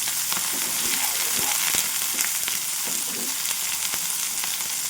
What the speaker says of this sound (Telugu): ఇవన్నీ కూడా అటు ఇటు తిప్పుకుంటూ చక్కగా ఫ్రై చేసుకోవాలి